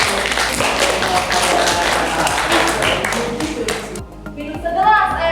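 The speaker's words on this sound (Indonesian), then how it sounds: "Oke, kita beri tepuk tangan untuk" Classroom students burst into applause for a student group's presentation, a brisk crowd of clapping hands that fades near the end as voices and a brief chant take over.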